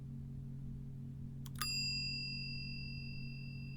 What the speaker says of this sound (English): Okay, there's a bell.